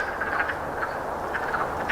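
Several short, high chirps repeat irregularly over a steady background hum, wood frogs calling at a moderate distance beside a canal.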